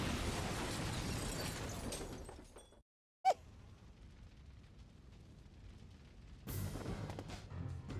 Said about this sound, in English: I'm setting off the bomb now.